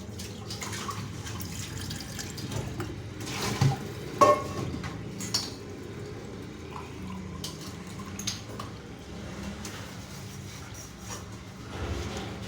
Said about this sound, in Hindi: अब हम इसको छन्नी की मदद से छान लेंगे। ये देखें, छान के एक जग में डाल देंगे।